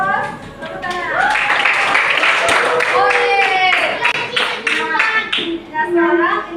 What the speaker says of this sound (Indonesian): Jadi sekarang beri aplaus untuk kita kelompok semua kelompok ya bos. Tepuk tangan.